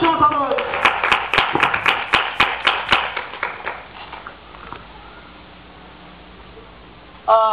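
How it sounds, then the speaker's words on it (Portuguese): A church congregation breaks into applause: a round of sharp hand claps, some in rhythm, close and loud over a crowd murmur. It fades out over a few seconds into low room noise, and a brief voice is heard at the very end. "Dá uma salva de palmas para eles que o Senhor essa noite."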